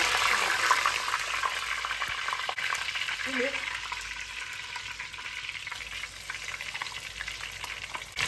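Dried chillies and curry leaves fry in hot oil in a pan for a spinach and colocasia curry, with a continuous close sizzle, some stirring scrapes and a brief tonal clink.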